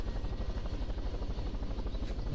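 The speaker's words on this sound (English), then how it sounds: "What the hell is going on with this helicopter?" A helicopter in the Totally Reliable Delivery Service video game flies with a steady, rapid rotor chop and engine drone, loud and continuous throughout, with no speech.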